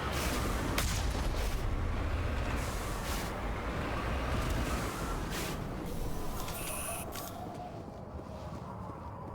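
Gunfire and heavy booms from sniper-killing combat in the video game Mass Effect Legendary Edition, a dense continuous barrage of shots and rumbling explosions filling the whole stretch at steady loudness.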